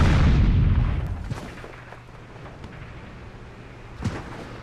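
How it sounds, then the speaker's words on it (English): Tank cannon fire and explosions in the World of Tanks video game, a heavy boom at the start rumbling off, then quieter distant thuds and a sharper blast near the end, with no talk. "There was explosions all around me with unspotted tanks"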